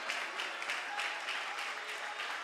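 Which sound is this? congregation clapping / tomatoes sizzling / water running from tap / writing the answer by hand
congregation clapping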